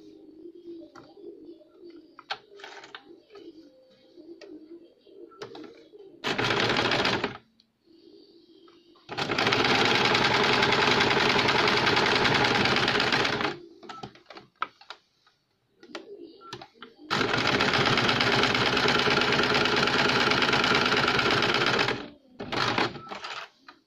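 An electric sewing machine stitches the lining of a four-tuck blouse in three loud, steady runs of rapid whirring, separated by quieter pauses filled with faint pigeon coos and small handling clicks.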